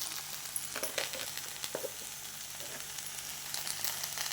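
Okra frying in a hot pan with chili powder added, a steady close sizzle with faint scraping stirs scattered through, no talking.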